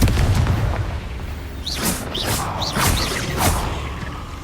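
Confringo blasting spells in the video game Hogwarts Legacy go off as a run of four quick, bright booming bursts about half a second apart, loud over a rumbling game ambience.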